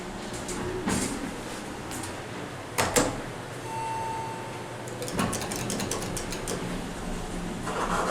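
A glass-walled Oracle hydraulic scenic elevator at a resort runs smoothly and quietly, with faint mechanical creaks, a few sharp clicks and a brief tonal hum over a steady low drone.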